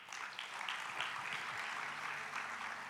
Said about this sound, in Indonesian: Beri tepuk tangan buat Allah kita